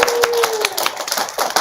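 A school assembly crowd claps for a Gator of the Month student award, a dense burst of hand claps close by and fairly loud, with a few scattered louder slaps and a faint trace of voices.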